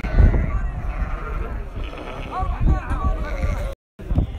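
Sheep bleat a few times amid a busy, noisy background at a livestock market selling sacrificial animals, with people talking close by.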